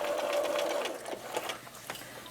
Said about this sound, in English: So just sew all the way around the top.